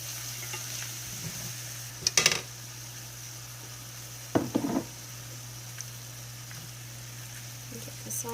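Beef and vegetable stir fry, coated with cornstarch, sizzles quietly in a pan over a low steady hum, and two short bursts of utensil scraping and clatter come as it is mixed.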